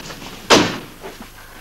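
A single door slams shut with a sharp, loud impact and a short decaying rumble, close by in a quiet room.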